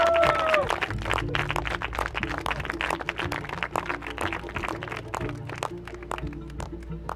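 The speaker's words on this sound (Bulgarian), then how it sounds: "Аплодисменти за тях" Studio audience applause on a TV show: loud, sustained clapping from a crowd, with a brief tonal musical sting at the very start.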